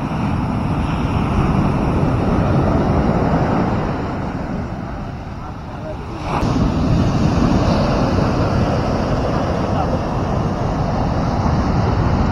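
Sea waves roll onto Kasaragod beach in Kerala, a loud, continuous wash of surf mixed with wind buffeting the microphone. The roar dips slightly midway, then surges back.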